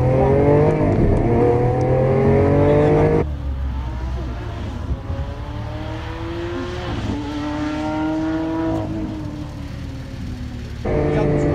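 A 740 hp supercar accelerates hard on a wet road, its engine note rising through rising revs and gear changes, loud and close from inside the cabin, with brief talk.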